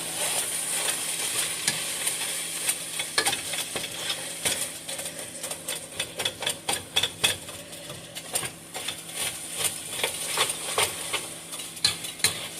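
Hamburger meat sizzles steadily in a frying pan while a utensil scrapes and taps against the pan over and over, breaking it apart in a busy, close rhythm.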